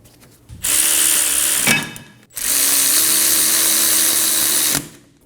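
A power tool drives the brake caliper bolts on the rear brakes of a 2008-2015 Scion xB, giving two loud, close whirring bursts separated by a short pause, with no talk.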